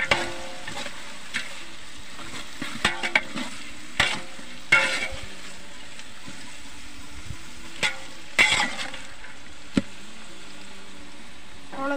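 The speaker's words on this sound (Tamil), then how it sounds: "நாலு பரட்டு தான், அதுக்கு மேலே பரட்டக்கூடாது." Biryani is stirred in a pot with a low background sizzle, broken by several sharp ladle scrapes and knocks against the metal at irregular intervals; no one speaks.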